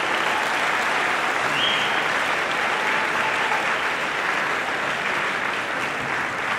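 Dense, steady audience applause at a folk dance concert in Limbaži, a continuous wash of many hands clapping at even loudness from start to finish.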